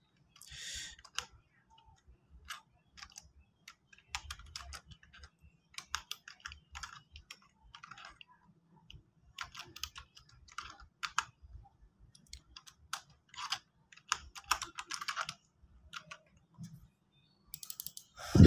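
Text is typed on a computer keyboard in close, crisp bursts of clicking keystrokes, irregular runs and pauses continuing for about eighteen seconds with no voice over them.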